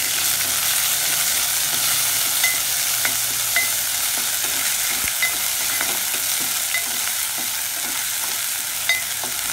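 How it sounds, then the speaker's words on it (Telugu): A spoonful of ginger garlic paste fries in hot oil with fennel seeds for masala mirchi bajji, a loud, dense, continuous sizzle up close, with faint scattered stirring ticks. "ఇప్పుడు ఒక చెంచా అల్లం వెల్లుల్లిపాయ పేస్ట్ వేస్తున్నాను. దీన్ని కూడా వేయించుకోవాలి."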